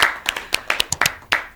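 Audience clapping for a high school performance by the students of lycée Philippe Zinda Kaboré, uneven and sparse, individual claps spread across the room rather than a dense roar.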